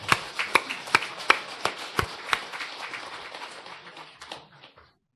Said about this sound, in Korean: 우리 찬양대를 위해서 우리 격려의 박수 한번 뜨겁게 합시다